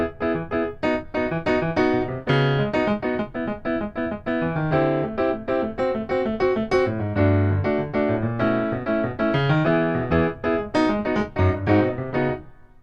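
A full band recording plays continuously, with bright chords, steady rhythmic drive and a solid low end, loud and without any talking over it.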